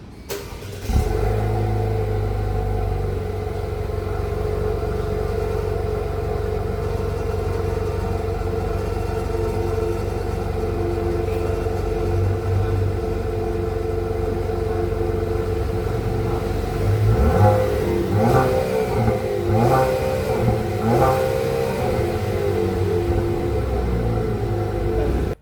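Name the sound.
Chevrolet Camaro RS Turbo engine starting and revving, heard outside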